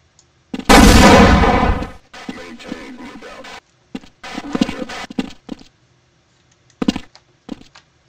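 A grenade blast in the video game Half-Life: a loud, broadband boom that decays over about a second, followed by scattered bursts of rumbling debris and clatter and a couple of sharp later cracks.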